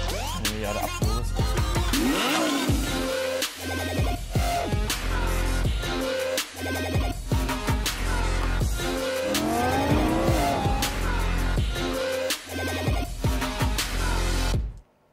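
Loud engine revving with long screeching tire squeals as a tuned car skids and spins, repeated over and over, close and aggressive.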